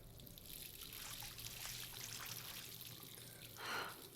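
Water pouring in the Life is Strange video game, a faint trickling stream that swells into a louder splash near the end, over quiet background.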